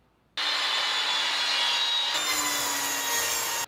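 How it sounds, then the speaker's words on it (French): A Rage 5S saw cuts small pieces of wood, a loud, steady, close-up rasping whine that holds for about three seconds and shifts slightly in pitch partway through before stopping abruptly. "je coupe des petits bouts de bois comme ça avec la scie"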